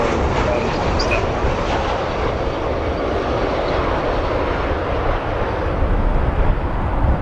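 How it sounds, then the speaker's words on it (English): A roughly 28-year-old Boeing 777-200 lands at Chicago O'Hare, giving a loud, continuous rumbling roar of jet engines and airflow that stays fairly constant and swells slightly near the end, without speech. "Pretty quick landing for that last aircraft."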